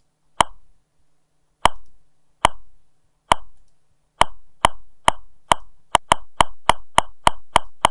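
A free online metronome ticks with sharp, dry clicks, widely spaced and slow at first, then speeding up to a quick, even pulse, loud and alone.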